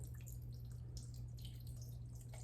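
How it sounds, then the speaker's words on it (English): Corn cooking water trickles and drips into a pot pie filling, a soft, steady close-up liquid pour lasting a couple of seconds over a low background hum, with no voices. "I'm gonna use a little of this corn water in here"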